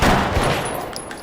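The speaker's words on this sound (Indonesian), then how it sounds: "Markus ditembak oleh Gabe dan peluru itu bersarang di tangkurak kepalanya" Gunfire from a police robbery film scene bursts out loud at the start, then a brief rattle of shots fades under a noisy, busy soundtrack.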